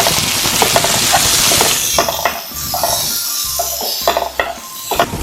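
Tomatoes sautéing in a pan for a dal rice lunch, with a steady sizzle and repeated scraping and stirring clinks of a spoon against the metal pan, close and fairly loud, no talking.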